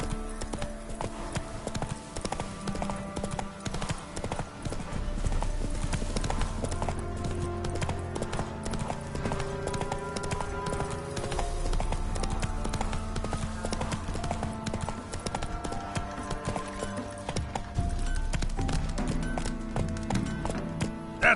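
Roach, the horse in The Witcher 3, galloping with fast, steady hoofbeats over in-game music, close and continuous throughout.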